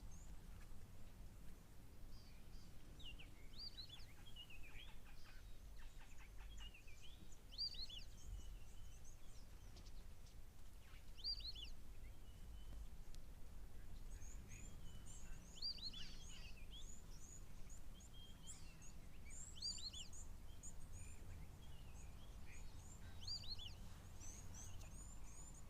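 A recorded call of white-faced whistling ducks plays as repeated high, thin whistles spread through the clip, fairly faint over a low, steady background rumble.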